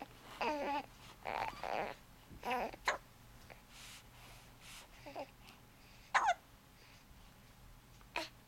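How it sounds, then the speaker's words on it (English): A baby hiccups repeatedly, short squeaky hiccups with breathy pauses and soft babbling between them, close and fairly quiet during tummy time. "Still got those hiccups."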